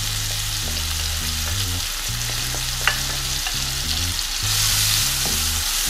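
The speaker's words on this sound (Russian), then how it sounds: "И обжариваю вместе со специями" Onion frying in hot spiced oil for a Korean-style chicken salad gives a steady, close, crackling sizzle with a brief pop near the middle, all set over quiet background music.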